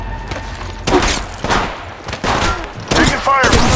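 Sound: gunfire in video game Apex Legends Mobile

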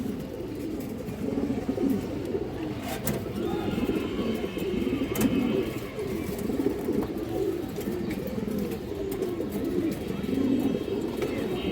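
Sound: pigeons cooing

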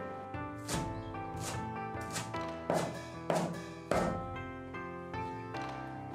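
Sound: chopping chives with a knife

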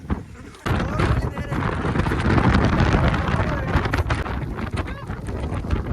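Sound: wind blowing on a hilltop

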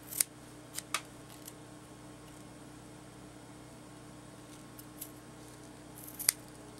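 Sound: scissors cutting fabric

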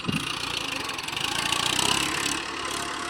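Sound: tractor engine running while levelling a farm field

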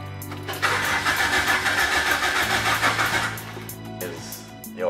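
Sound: Lotus 7 car engine starting in the cold

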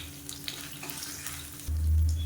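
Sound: garlic, ginger and dried chillies frying in oil

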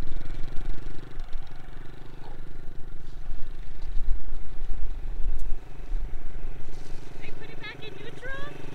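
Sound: mini cafe racer motorcycle riding away

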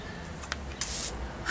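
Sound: paint sprayer spraying a wall

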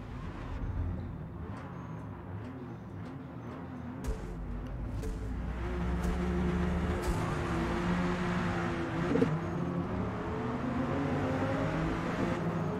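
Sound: Dodge Viper engine in the Forza Motorsport video game

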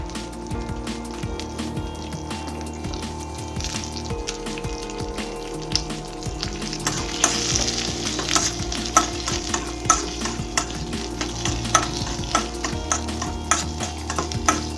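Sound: onions sautéing in a pan

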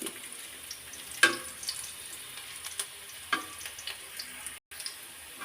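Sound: garlic frying in a pan

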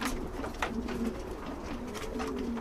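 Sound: Jansen racing pigeons cooing

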